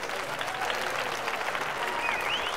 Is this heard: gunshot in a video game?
no